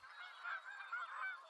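Canada geese in a migrating flock in Nova Scotia honk continuously, many overlapping nasal calls at moderate distance, faint and steady without talk.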